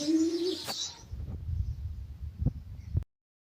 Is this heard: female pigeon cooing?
yes